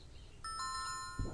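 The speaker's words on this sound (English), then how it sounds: "Doorbell." Two-tone electronic doorbell chime in the video game 2064: Read Only Memories, a clear ding-dong of bright stacked tones sounding once at moderate volume, followed by a brief low thump.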